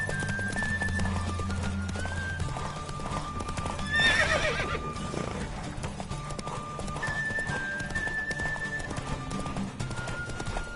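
Rhythmic hoofbeats of a galloping horse with a whinny midway, over steady background music in The Witcher 3: Wild Hunt video game; no one speaks.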